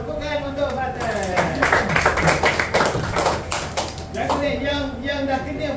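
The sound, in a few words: applause for Fatih in a classroom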